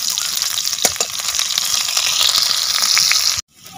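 Onions frying in hot oil in a village kitchen, a loud, close, steady sizzle with crackling pops and stirring that cuts off abruptly near the end.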